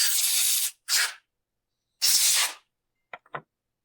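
Compressed air blasts grit off the air box of a Husqvarna 572XP chainsaw: three loud, close hissing bursts, a long one, a short one, then another long one, followed by two faint clicks.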